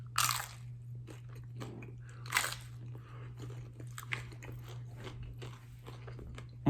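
Crunchy bites and chewing of a crispy, cheesy fried tostada with a crisp bottom and soft top, with a few sharp crunches standing out over steady close-up mastication and no talking.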